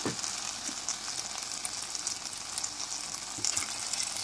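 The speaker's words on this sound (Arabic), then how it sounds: "بعد ما شوحت الباميه مع التوابل والثومه والبصله وهرست الشطه" Okra sizzling in a hot pan with spices, garlic and onion, a continuous soft crackling fry with occasional stirring bumps, no voices.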